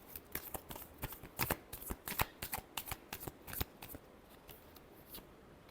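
Tarot cards being shuffled by hand, a quick run of crisp riffling snaps and slaps close to the microphone, fading to a quiet pause near the end.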